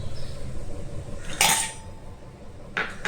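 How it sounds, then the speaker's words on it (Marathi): Ice cubes dropped into a glass of lemon soda, two bright clinking splashes close up, the first louder, over a steady low background hum. "आता याच्यामध्ये आपण आईस क्यूब टाकून घेऊया"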